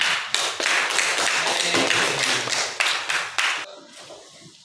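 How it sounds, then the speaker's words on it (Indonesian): A classroom of students claps for a few seconds, a dense, loud burst of many hands that stops abruptly and leaves a quiet room. "Tepuk tangan."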